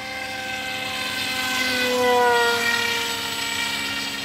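An RC model Chinese J-20 jet flying at high alpha: a loud, steady engine whine with rising and falling tones as the plane passes, swelling in the middle and then easing off, with no talking.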